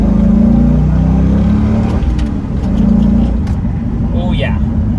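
A stock C5 Corvette with a six-speed manual accelerating briefly, its V8 a loud, steady low drone heard from inside the cabin while a voice talks over it.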